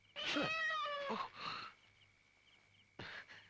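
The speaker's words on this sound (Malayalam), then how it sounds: "സാരമില്ല, പൂച്ചയാണ്." A cat lets out a long, drawn-out meow close by, then a short second meow after a pause, over a faint steady hum.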